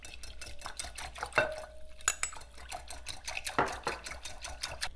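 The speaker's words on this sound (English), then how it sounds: "So just add and whisk your flour into your broth." Flour whisked into beef broth for a beef stroganoff, with a quick, steady patter of whisk strokes clicking against the bowl and a few sharper knocks, close and fairly quiet.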